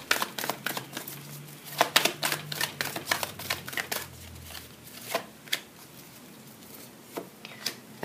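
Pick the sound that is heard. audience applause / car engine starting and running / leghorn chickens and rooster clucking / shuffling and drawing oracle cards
shuffling and drawing oracle cards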